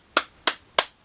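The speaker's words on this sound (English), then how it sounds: "they can't hear you clap" Four sharp hand claps ring out at an even, moderate pace, crisp and close with a brief decay after each, alone in a quiet room.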